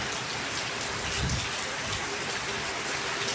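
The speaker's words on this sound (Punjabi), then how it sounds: "ਬਾਰਿਸ਼ ਪੂਰੀ ਹੋ ਰਹੀ ਹੈ ਇਸ ਟਾਈਮ" Heavy late-monsoon rain pours down steadily in Punjab, a dense, unbroken hiss of drops hitting surfaces all around, with no talking.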